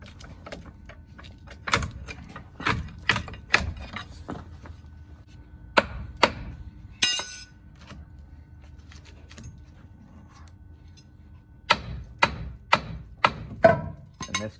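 Pry bar working brake pads off a 2014 Dodge Ram, clusters of sharp metallic clanks and knocks in irregular bursts with quieter gaps between, close by.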